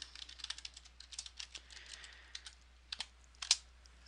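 Fingers type login credentials and a password on a computer keyboard, producing quiet, close, irregular clicks in short bursts with brief pauses and one sharper keystroke near the end, with no talking.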